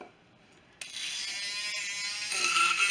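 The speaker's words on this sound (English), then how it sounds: "I use a little battery operated whisk. And we're going to whisk this" A small battery-operated whisk switches on after a quiet start and runs with a steady high mechanical whir while mixing a spring green onion dressing with pepper, close and continuous, rising slightly in loudness toward the end.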